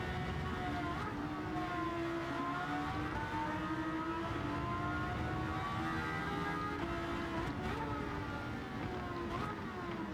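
Porsche GT race car engine in Gran Turismo 7 on the Sardegna Road A circuit, a steady loud drone with shifting pitch as the car brakes and accelerates, continuous for the whole stretch with no talk.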